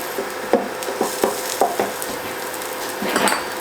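Cubes of beef are tossed in seasoned flour in a bowl, giving soft, irregular scraping and thudding knocks up close, with a busier rustling burst toward the end.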